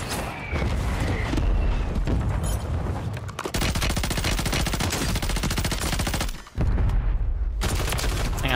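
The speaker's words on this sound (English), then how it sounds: "Mortar strike on the way." Mortar strike in the Warzone video game: a dense barrage of loud, rapid booming impacts and crackling blasts that pound almost continuously for several seconds, pausing briefly twice before resuming.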